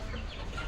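A chicken being fed clucks briefly, close by, in a short burst of low throaty sound.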